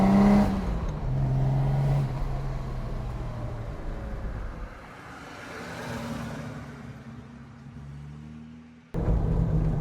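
A car with a throttle cable conversion, modern air filter and poly bush suspension drives along, its engine humming steadily and then easing off before the sound cuts abruptly near the end.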